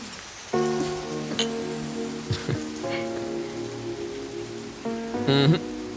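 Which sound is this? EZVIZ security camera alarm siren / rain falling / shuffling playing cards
rain falling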